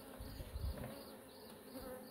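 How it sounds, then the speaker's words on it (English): Steady, droning buzz of many honey bees at close range inside a 3D-printed hive, a dense hum with low rumbling swells and no voices. "bees working"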